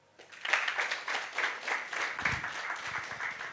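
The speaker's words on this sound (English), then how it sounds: "A round of applause for that." An audience at a university entrepreneurship pitch day in Kigali breaks into applause, a dense burst of clapping that swells quickly and holds steady for a few seconds.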